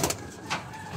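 Pigeon cooing close by, a couple of short low coos over a background hum, with no speech.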